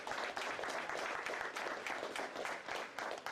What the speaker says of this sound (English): give all of them a nice round of applause